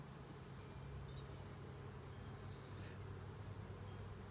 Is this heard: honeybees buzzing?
yes